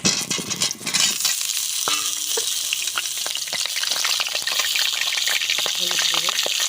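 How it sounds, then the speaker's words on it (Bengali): Potatoes sizzle steadily in hot mustard oil in a village kitchen wok, with broadband frying hiss throughout and occasional clinks and stirring scrapes of a utensil against the pan. "কড়াইতে দিয়ে দেবো সরষের তেল।"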